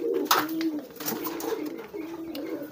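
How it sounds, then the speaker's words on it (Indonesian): A local domestic pigeon, a kolong-type merpati, coos in low, repeated rolling phrases close by, with soft wing and rustling sounds between calls and no talking. "Jadi ini asli merpati kolong teman-teman"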